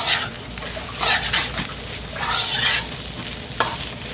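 Mutton being stirred and fried in a pan, loud close sizzling with rhythmic scraping swishes of the spatula coming in several bursts.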